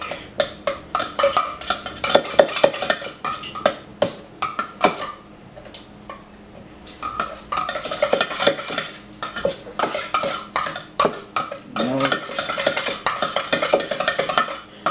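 Potato filling for a twice-baked potato being pounded and pressed into a dish with a utensil, giving loud, irregular clattering knocks and scrapes in quick bursts with a short pause midway, close up with no talk.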